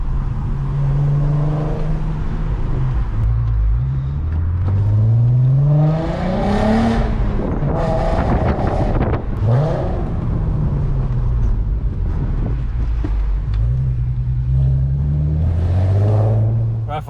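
A VW Golf R32 with 167,000 miles on it revs through a series of quick throttle blips on downshifts, the engine note sweeping up and falling back several times from inside the car.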